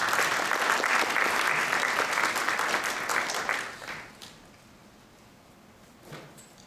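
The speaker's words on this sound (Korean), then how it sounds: "박수로 맞이해 주시기 바랍니다." An audience at an architecture forum applauds to welcome the director of an architecture and urban space research institute. Dense, steady clapping fills the first four seconds, then fades quickly into quiet room tone, with a small stray noise near the end.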